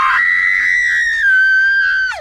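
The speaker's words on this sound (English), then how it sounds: "While she desperately screams as loud as she can" A woman in a film lets out a single loud, sustained, high-pitched scream lasting about two seconds, close and alone, breaking off abruptly at the end.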